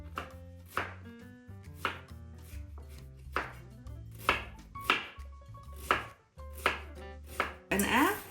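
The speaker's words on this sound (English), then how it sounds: "use half of this, okay? And slice thinly" A kitchen knife thinly slices half a cabbage on a cutting board, making steady, close chopping strokes in a regular rhythm with brief pauses and no talking.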